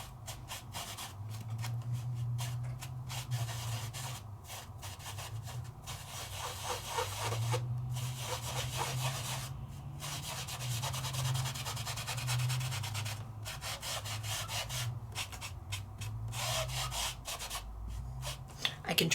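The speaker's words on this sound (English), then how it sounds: "And I'm just going to burnish it right on in." A craft tool burnishes metallic flakes onto paper with steady back-and-forth rubbing strokes in a repeated rhythm, close and moderately loud, with no talking.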